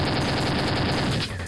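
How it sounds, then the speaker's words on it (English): Rapid, continuous gunfire from a doubled-up shotgun in the video game Brazilian Drug Dealer 3, a loud dense barrage of blasts that runs without a break and eases off only near the end. "This is not a double-barreled shotgun. It is literally just 2 shotguns."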